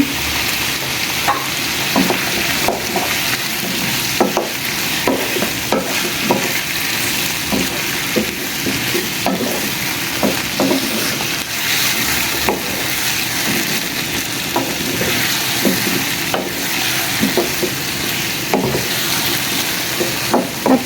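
Garlic paste frying in a pan for a tilapia and sweet pumpkin curry, a steady close sizzle broken by repeated scraping clicks of a spatula stirring throughout, with no voices.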